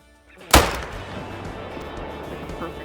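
A single sharp, loud rifle shot from the Quist rifle in a hunting video game, an abrupt crack followed by a rumbling decay that fades into a low ambient background.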